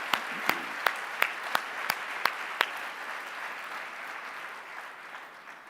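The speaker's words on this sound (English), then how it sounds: "I think they deserve a sincere round of applause." Conference audience at an annual scientific meeting applauding volunteers, with a steady wash of clapping and several sharp, close individual claps standing out in an even rhythm early on before settling into a softer continuous patter.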